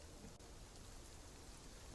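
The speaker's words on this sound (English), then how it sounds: "the next day arrives as a still rainy day" Steady rain pours outside on a still, rainy day, a dense, even hiss of drops with no break that fills the whole stretch.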